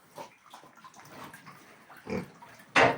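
Pigs grunt in a pen, a few scattered low grunts and snuffles at close range, ending in one louder, harsher squeal-like grunt.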